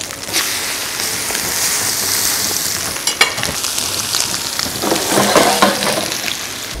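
Pork neck hits a hot pan and sears with a loud, close, continuous sizzle and crackle, with occasional stirring scrapes partway through and no talking.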